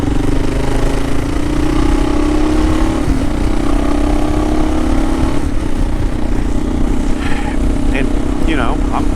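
A 2018 Kawasaki KLR650 single-cylinder motorcycle on a ride to work, its engine droning steadily at cruising speed with heavy wind rush, loud and continuous throughout.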